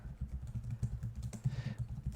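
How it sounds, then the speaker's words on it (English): Quick, uneven clatter of keys on a computer keyboard, close and fairly quiet, ending in a firmer press of the enter key. "by pushing the enter button on the keyboard"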